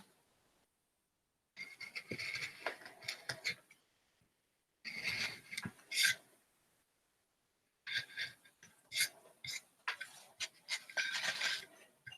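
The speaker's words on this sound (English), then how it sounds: "So I like the V tool first to make sure that I create the outline in the right spot." A V tool gouges the outline into a reduction print block, giving three bursts of dry, rasping scrapes with short gaps between, close and moderately quiet with no voices.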